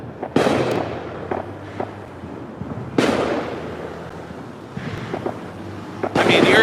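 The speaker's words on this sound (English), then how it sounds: "I saw a firework from that direction." Fireworks for a July 4th celebration burst outdoors in several sharp booms spaced a few seconds apart, each decaying into crackle and wind noise.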